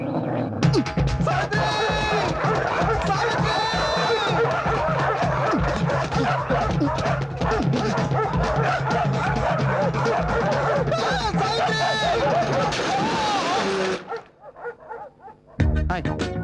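Several dogs bark, yip and whine excitedly and continuously close by, then the commotion suddenly cuts off near the end.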